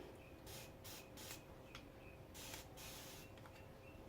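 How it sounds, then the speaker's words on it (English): A spray bottle hisses in a series of short, quiet bursts, some quick pairs, with brief pauses between squirts, while distressing a chalk-painted china cabinet. "Spray a little bit at the bottom."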